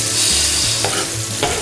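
Chopped onions hiss and sizzle loudly in hot oil in a pan, a steady close frying crackle with a few stirring scrapes and no talking.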